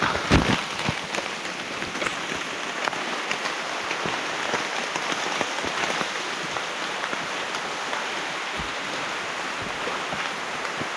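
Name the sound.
rain falling on a mountain trail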